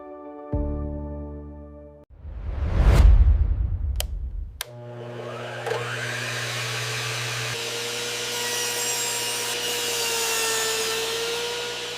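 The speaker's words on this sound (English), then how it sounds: "Check out this powerful mini table saw." A compact mini table saw spins up and cuts through wood, with a rising and falling whine, a loud burst of cutting noise, a brief stop, then the motor running on steadily with a high hum, with no talking.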